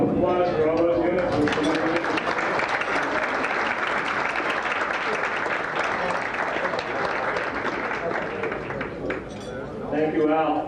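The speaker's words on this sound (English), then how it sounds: "Have a round of applause for all those units." A sustained round of audience applause at a council annual dinner, dense and steady, fills the room for about ten seconds before tapering, with faint voices near the end.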